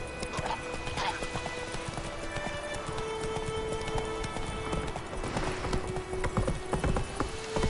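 Roach's hooves pound in a steady, close gallop throughout, a continuous rhythmic clatter from the horse in The Witcher 3: Wild Hunt, with faint voices and game sounds mixed in.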